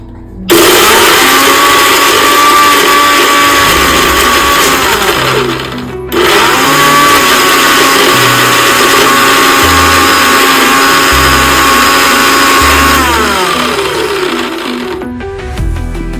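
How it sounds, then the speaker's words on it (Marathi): An electric mixer grinder whirs loudly and steadily, grinding onion, coriander seeds, ginger, garlic and cilantro into a fine paste, with a brief pause near six seconds before it restarts and runs on until it stops near the end. "कांदा, धन, अद्रक आणि लसूण आणि कोथिंबीर हे आपल्याला बारीक वाटून घ्यायचंय"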